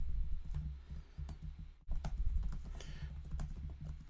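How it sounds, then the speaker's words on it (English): Close, crisp keystrokes on a computer keyboard tap out in irregular bursts, with a brief pause midway before the clicking resumes, quiet and alone. "What are you typing, Dominic?"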